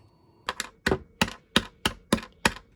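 A fully 3D-printed keypad switch fitted with a painter's tape mod is pressed eight times in an uneven rhythm. Each press gives a sharp, close click in a quiet room.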